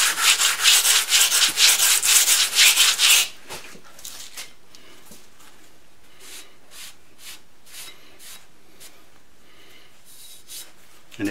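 Hand deburring of a milled fixture plate made on a Bridgeport mill, starting with a loud, fast run of rubbing strokes, then fainter, intermittent short scrapes, with no talking.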